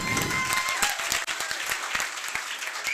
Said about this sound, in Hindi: एक बार खुद के लिए तालियां हो जाए